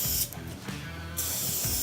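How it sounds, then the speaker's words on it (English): Lubricant sprayed onto the inside of a garage door roller track, with a nozzle set to a medium spray: a steady close hiss in two short bursts with a brief pause between them. "we're going to give a little spray"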